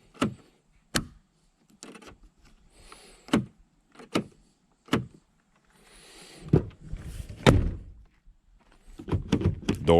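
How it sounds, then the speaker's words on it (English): A repaired Chevrolet Silverado door lock actuator clunks repeatedly, a series of sharp mechanical thunks and clicks spaced about a second apart, close up, with some rustling and handling noise between them. "Door's locked."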